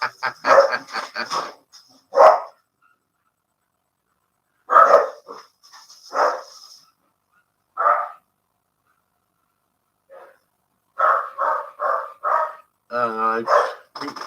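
A dog barks in short bursts in a household, the barks interleaved with people talking nearby and separated by stretches of silence.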